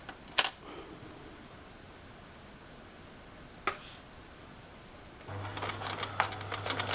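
A sewing machine stitches the crotch seam of a Greer jumpsuit romper. A couple of faint clicks come first, then a steady close mechanical whir starts up and runs to the end.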